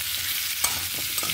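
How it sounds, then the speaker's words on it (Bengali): Pumpkin pieces with potato and onion sauté in a pan with a constant bright sizzle, punctuated by several scraping, knocking strokes of a spatula as the vegetables are stirred. "এবারে দিয়ে দেবো মিষ্টি কুমড়োটা দিয়ে আরও 1 মিনিট মতন আমি কষিয়ে নেব।"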